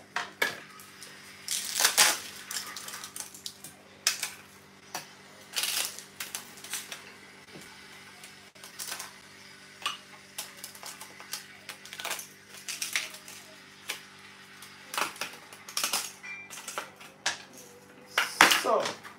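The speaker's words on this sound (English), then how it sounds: "And I have ice here. I'll be adding my ice." Ice being added into a blender jar, a scattered series of hard clinks and clattering knocks up close, some clusters louder than others, over a steady low hum with no talking.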